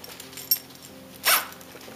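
A hammock's zipstick rail being zipped together, heard as a short faint tick followed by one quick, crisp zip pull close by, with near silence around it.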